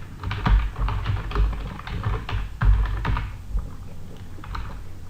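Name typed on a computer keyboard, a quick run of close, crisp keystrokes in uneven bursts with short pauses, no voices.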